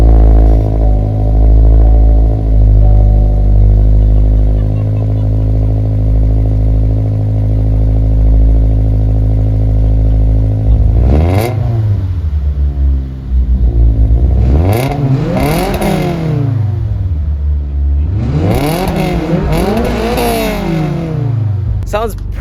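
Toyota GR86/Subaru BRZ fitted with a Perrin catback exhaust, the engine steady at a loud idle before several rising and falling revs, deep and close, with a raspy exhaust note.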